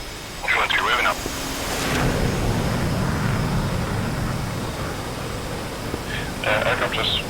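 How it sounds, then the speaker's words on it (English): A jet aircraft in the DCS combat flight simulator waves off a carrier landing, its engine a steady, loud broadband roar under intermittent radio chatter and voices throughout. "Aircraft just waved off."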